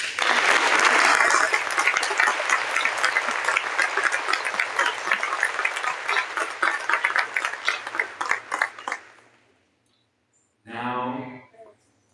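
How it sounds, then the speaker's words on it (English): An audience at a Hult Prize finals event applauds with a dense, loud burst of clapping for about nine seconds, fading out, followed by silence and a brief spoken voice. "Let's give them all a round of applause."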